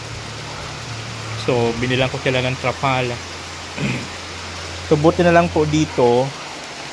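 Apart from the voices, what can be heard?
heavy rain falling on a construction site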